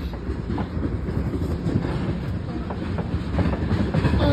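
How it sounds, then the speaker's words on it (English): An F&O freight train with unknown locomotives rolls past close by, a loud continuous rumble of cars with rhythmic clickety-clack from the wheels over rail joints. "Oh, this is an F&O train."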